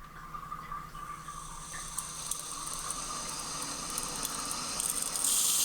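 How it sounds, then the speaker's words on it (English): Water is turned on slowly through newly installed pipes, giving a soft, steady hiss and rush that builds gradually and grows louder near the end. "So we're gonna turn the water on very slowly."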